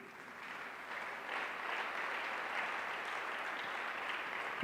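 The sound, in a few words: congregation applause in church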